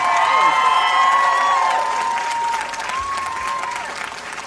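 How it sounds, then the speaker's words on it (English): A concert crowd at a live show in London applauds and cheers for Ashton, a broad roar of clapping and shouts, with a voice and a sustained tone over it early on before it slowly fades. "Round of applause for Ashton, everyone."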